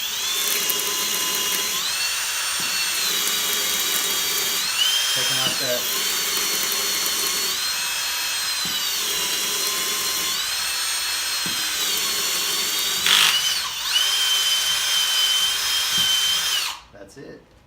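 Power drill boring out oil system fittings on a Mopar small-block 360 engine, a steady high whine with brief dips and pitch shifts running close up, someone speaking briefly under it before it cuts off.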